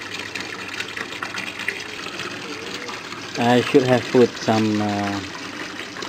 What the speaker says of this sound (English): It's almost filling up the bottom tank.